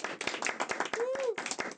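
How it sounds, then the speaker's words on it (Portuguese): Applause for a guest on a podcast: rapid, steady clapping from a small group, close and continuous, with a brief voice rising over it partway through. "Salva de palmas."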